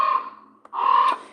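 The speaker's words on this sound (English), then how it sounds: "That's the American crow." American crow gives two drawn-out, harsh caws separated by a short gap, clear and fairly close against an otherwise quiet background.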